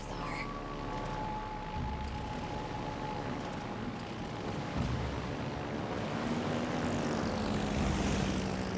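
Carrier aircraft drone overhead in the naval battle game World of Warships: Legends, a steady propeller-engine hum with a faint pitch sweep, continuous and fairly loud across the whole stretch.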